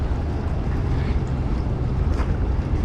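Wind buffets the microphone at a Guam beach, a continuous low rumbling roar with a faint wash of surf underneath, loud and close with no voices.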